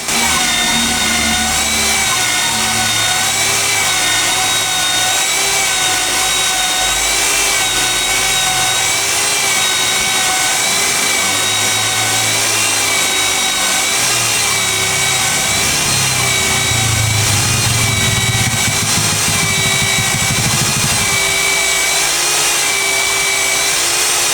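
Loud, continuous mechanical whirring and grinding from a honing machine polishing an engine cylinder liner, running without pause, with a steady tonal hum throughout.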